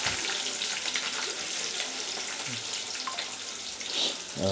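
Onion sizzles in hot oil as tempering for a home-cooked fish curry, a continuous crackling fry heard close and steady from start to finish.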